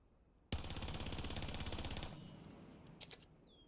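Kali's rifle fires in Rainbow Six Siege as one rapid automatic burst of about a dozen and a half shots. The burst starts abruptly, fades, and ends in a short rattle of mechanical clicks, with no talking.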